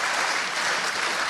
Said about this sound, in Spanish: Un aplauso para nuestros hermanos